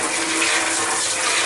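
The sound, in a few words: water rinsing out honey extractor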